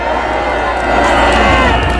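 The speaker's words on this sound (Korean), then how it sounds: "다시 한번 큰 박수 부탁드립니다" A rally crowd at a Korean political speech event cheers and claps loudly, a continuous roar of applause and shouts that swells slightly toward the end.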